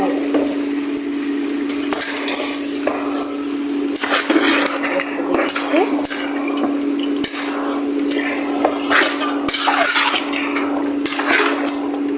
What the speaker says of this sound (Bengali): এবার আমি এর মধ্যে গোস্ত দিয়ে দিচ্ছি।